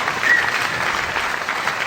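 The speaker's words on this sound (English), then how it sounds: "Big round of applause there for the Cheesewheeler." A crowd applauds a winner at a retail awards ceremony, a short, steady roar of clapping from a sizable audience in an indoor hall.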